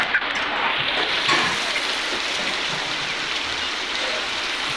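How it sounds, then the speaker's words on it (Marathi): Rain falls steadily in a rural tribal village, a constant broad wash of drops on surfaces with no break and no one speaking. "मित्रांनो आता पाऊस आलेला आहे तुम्ही बघू शकता"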